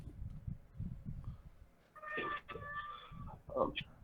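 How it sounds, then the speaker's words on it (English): A cat meows a few times in the background, drawn-out and moderately faint, mixed with low murmuring voices and room noise. "Yeah, it's my cat."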